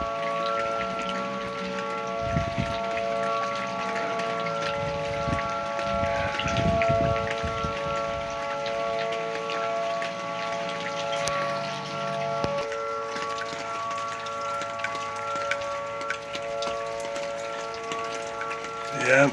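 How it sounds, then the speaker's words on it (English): Light rain falls steadily in the early morning north of Tulsa, a soft continuous patter under a wailing tornado siren, with a few voices and brief knocks nearby. "Just only light rain."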